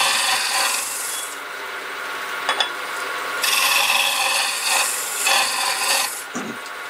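A woodturning gouge roughs out a wooden hollow form on the lathe with the overhand technique, giving a steady loud rasping scrape that rises and falls as the tool enters and is withdrawn to clear shavings, with no talking.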